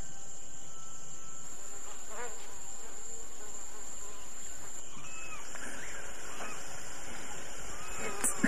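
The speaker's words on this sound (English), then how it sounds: "Mosquitoes are horrendous." Mosquitoes whine and buzz at night in the jungle, a steady high insect drone that fills the whole stretch alongside chirping night insects.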